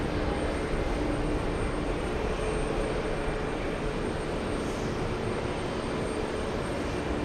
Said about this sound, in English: We have the Irish taxiing to the runway for takeoff